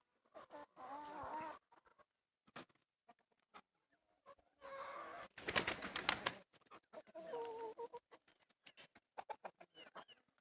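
Brahma chickens cluck and a Brahma rooster calls in short, scattered bursts close by, with quiet gaps and rustling between them.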